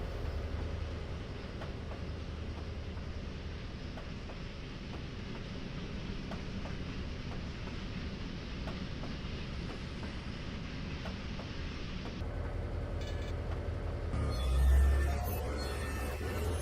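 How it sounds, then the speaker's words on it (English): An SD40-2 diesel locomotive in the Trainz TRS2019 simulator rumbles along steadily with a continuous low engine drone and rolling rail noise, heard alone at even volume throughout. "After passing the crossing lights, the train heads into the right-hand loop line and continues up until just before the switch going into the Y."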